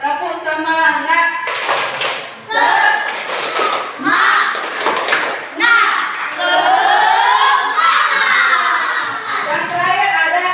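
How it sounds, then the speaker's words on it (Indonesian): A classroom of teachers and students doing the rhythmic 'tepuk semangat' clapping game at a junior high school, with bursts of claps and thumps mixed with chanting voices and shouts throughout. "Biar semangat, udah Bapak Ibu kita bermain tepuk semangat ya."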